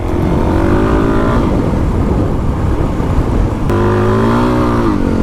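Dual sport motorcycle accelerating hard, engine pitch climbing through the revs, a brief dip at a gear change, then rising again, loud and close from the rider's position.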